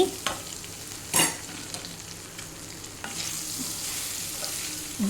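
Oats stir-fried in a pan for mango pulihora, a steady close sizzle with scraping stir strokes and occasional louder clinks of the spatula.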